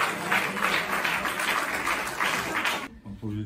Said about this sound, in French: Applaudissez le poète.